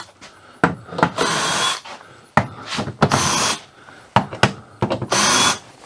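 Clamp plate being worked loose while a Dometic air conditioner is removed from a horse trailer: bursts of loud, close power-tool whirring alternate with sharp clanks and scraping, in repeated cycles without talking.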